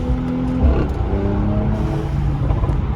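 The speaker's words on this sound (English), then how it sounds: "All right, let's hit this downshift." A 2020 Mercedes-AMG C43 fitted with an AMG performance exhaust downshifts under a bridge, the engine note dropping and then rumbling on loudly and close, with traffic around and no talking.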